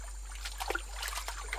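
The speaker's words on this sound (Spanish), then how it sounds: "ñame y vara se meten en la charca y comienzan a diluir el veneno lavando las lianas varias" Barbasco lianas are rinsed by hand in a pond to release their fish poison, with soft, scattered trickles and small splashes of water that sound faint and close over a quiet background.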